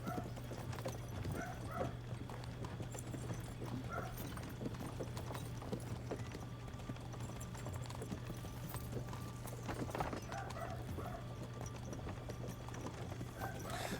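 Horse hooves clip-clop in a steady, continuous rhythm in a video game, fairly faint over a low constant hum.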